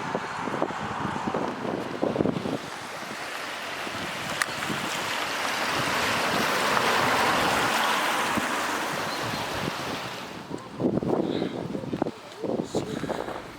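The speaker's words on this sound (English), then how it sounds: "Let me just show you the brook with all the rain that I was telling you about." A fast-flowing brook swollen with rain beside a walk in Warrington, a steady rushing wash of water that swells and fades, with wind buffeting the microphone at times.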